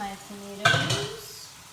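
A spoon stirs tomato stew in a pot: a short scraping, sloshing stir close by with a faint sizzle, after a low hum at the start.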